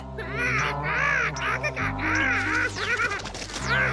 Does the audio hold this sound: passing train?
no